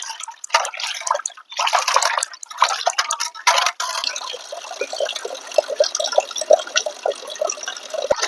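Raw chicken is rinsed under a running kitchen tap, with close splashing and sloshing bursts at first, then a steady trickle and soft dripping of water.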